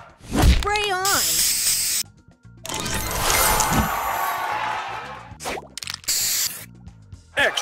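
Hissing spray bursts from a booster in a match-3 puzzle game, loud and broadband, mixed with chiming game effects and an announcer voice calling out in-game prompts.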